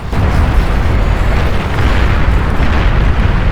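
A steady, loud rumbling roar of fusion reactor explosions in the strategy game Beyond All Reason, dense and continuous with heavy low-end booming throughout.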